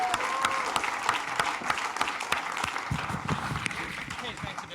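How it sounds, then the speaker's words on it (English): Sustained applause from a large conference audience, dense clapping with a few cheers, fairly loud and steady throughout. "Let's give a big, warm round of applause."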